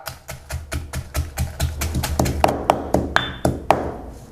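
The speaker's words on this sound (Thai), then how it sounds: "ขั้นตอนแรกโขกพริกกระเทียมก่อนครับเตรียมครกมา" Steady rhythmic pounding of garlic and chilies in a mortar, about three thumps per second, close and clear, growing sharper toward the end.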